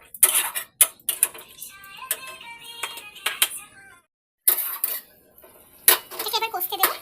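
A spoon clatters and scrapes against a pan while spices and water are stirred for paneer ghugni. The clinks come in quick irregular bursts with short pauses between them.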